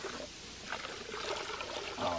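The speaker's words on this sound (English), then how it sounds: "pour most of the top water out and see what kind of sediment we have in here" Murky water with loose, fine sediment is poured out of a ram pump's low-flow intake, making a faint, brief splashing trickle.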